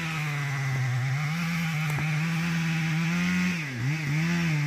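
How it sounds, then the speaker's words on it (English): Chainsaw bore cutting into a walnut tree, its engine holding a steady, loud buzzing drone that dips briefly under load near the end, continuous with no voices. "Now that's the thing with bore cutting these walnut."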